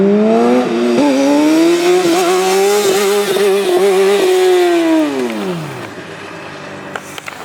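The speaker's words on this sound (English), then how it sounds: "So strictly using the torque of the bike and the gearing to get a wheelie going." A Honda CBR600RR 600cc sport bike engine screams loudly as it accelerates into a wheelie, its pitch climbing steadily and holding high before falling away as the bike passes and fades.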